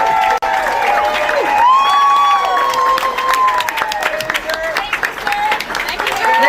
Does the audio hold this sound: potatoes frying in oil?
no